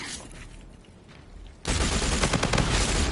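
Rapid automatic gunfire from the shooter video game Infinite Warfare, a dense continuous burst starting partway through after a quieter stretch, loud and close with no talk over it.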